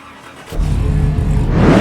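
A Stadium Super Truck engine in Automobilista 2 cranks and catches after a short quiet start, then settles into a loud, steady idle that builds toward a rising rev at the end.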